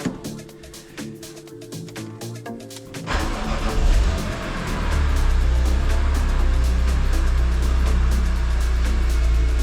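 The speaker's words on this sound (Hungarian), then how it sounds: "Most akkor be kell indítani az autót egy kicsit." Faint ticking and whirring, then an engine cranks and catches around three seconds in, settling into a steady, loud idle rumble.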